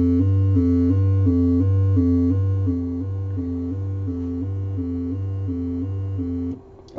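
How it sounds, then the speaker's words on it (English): Synthesizer oscillator whose pitch is modulated by a square-wave LFO, so a sustained tone flips steadily between two notes in an even back-and-forth rhythm. It plays loud and close with no talk, then cuts off just before the end. "you take your square wave out from here and you put it into your oscillator, and it sounds kind of like this."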